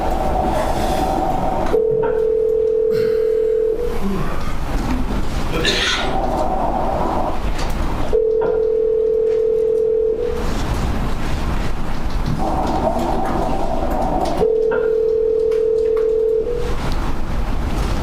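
A recorded telephone call rings out toward voicemail: three long steady ringback tones, each about two seconds, separated by pauses with line hiss and faint background noise, continuous and fairly loud.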